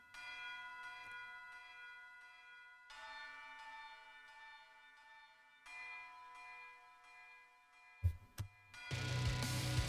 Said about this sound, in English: bells in the background